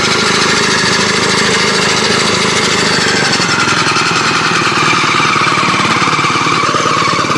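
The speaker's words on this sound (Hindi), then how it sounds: "ये देखिए ये ट्रैक्टर स्टार्ट हो गया है" A homemade small tractor built with motorcycle and tempo parts runs after a rope start, its engine chugging loud and close with a steady, rapid hammering beat and no talking.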